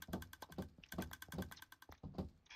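Keys on a computer keyboard click in a fast, uneven run of sharp taps during Minecraft play, close and fairly quiet, with no one talking.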